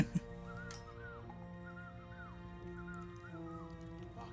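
Someone whistles a short repeating tune in a video game, each phrase a rising-falling glide, over a steady background drone, fairly quiet and continuous.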